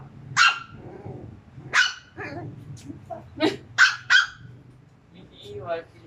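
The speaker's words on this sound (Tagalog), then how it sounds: "Isang tahol lang, Iwa." A dog barks several times in short, sharp bursts, close by, with a low hum underneath.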